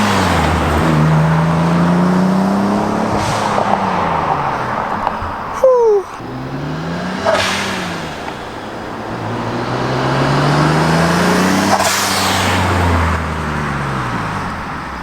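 A Nissan 300ZX twin turbo with an aftermarket blow off valve drives past outside, its engine rising and falling through repeated accelerations, with a sharp valve release midway. People chatter faintly in the background.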